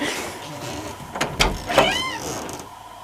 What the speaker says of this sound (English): What are you yelling about, kitten?